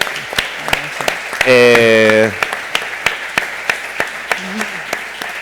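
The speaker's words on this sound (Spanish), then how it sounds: "les pido un aplauso para ellos" Regular sharp claps from one or a few people, with a brief burst of a sustained tonal voice or cheer partway through.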